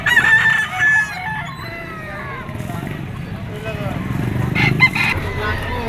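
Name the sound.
Sweater gamefowl bull stag rooster crowing at auction market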